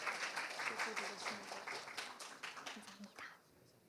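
An audience at a conference applauds a presenter walking up, brisk clapping from a modest crowd that thins out and stops near the end, with a faint voice briefly audible.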